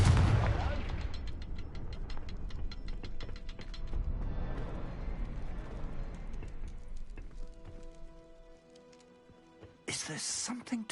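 Confringo blasting spell in Hogwarts Legacy cast as a sharp, loud burst and crashing impact with rumbling debris that fades over several seconds into a quieter magical shimmer, a voice briefly talking.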